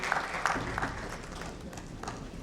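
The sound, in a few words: audience applause for a panelist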